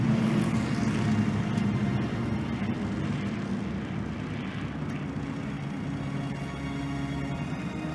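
A World War II warplane engine drones steadily in Call of Duty: Vanguard during the Battle of Midway, a loud, continuous close roar with a faint propeller buzz and no talk.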